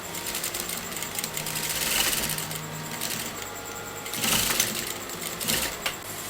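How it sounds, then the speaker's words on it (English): Close, steady rattling hum of a sewing machine stitching a raw silk kurta at an angle, with slight surges in pace and no voices. "going to sew in an angle"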